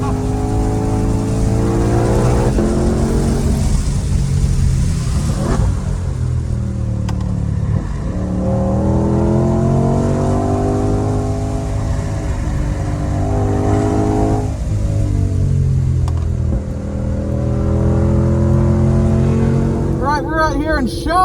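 A white Ford GT500 driven at speed around a track, its engine loud and continuous with rising and falling revs through gear changes and corners, while people talk in the car.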